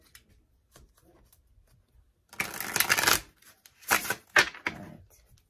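Tarot cards are shuffled in a few quick riffling bursts after scattered soft taps and handling noises, close by and without speech.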